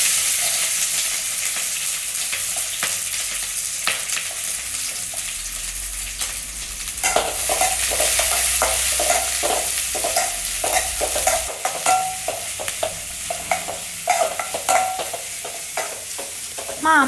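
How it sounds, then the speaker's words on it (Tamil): Mustard seeds and lentils frying in groundnut oil for a tempering, a steady sizzle with spattering crackles and scraping stirring strokes throughout, no talk. "கடுகு பருப்பு போட்டுக்கலாம்."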